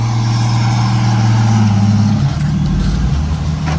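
A Mahindra Roxor turbo diesel pulls off in second gear, a loud, close, deep engine drone that shifts in pitch partway through as the vehicle gets moving.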